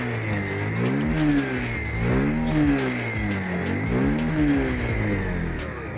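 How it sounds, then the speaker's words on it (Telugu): Bajaj Pulsar 125cc 2020 motorcycle engine running close by, revving up and easing off repeatedly in a steady rising and falling drone with no talking. "వెహికల్ ఇంజిన్ నేను ఆల్రెడీ డ్రైవ్ చేశాను కాబట్టి మీకోసం మరొకసారి స్టార్ట్ చేసి చూపిస్తాను"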